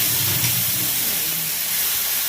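Fish roe from bootai fish fries with masala in a pan on a gas stove, making a continuous bright hiss and sizzle that holds steady and close throughout.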